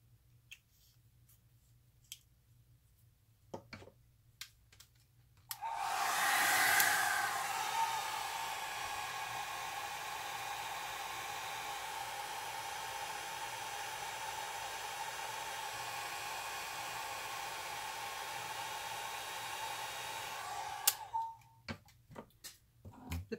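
An airbrush set to 40 PSI spraying alcohol ink, a sudden steady hiss of compressed air that runs for about fifteen seconds before cutting off, close and loud, with faint ticks and clicks before and after.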